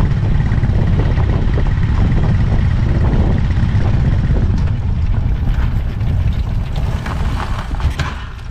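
A boat motor runs loud and close with a rough, droning roar mixed with wind buffeting, then gradually weakens toward the end as it begins to stall.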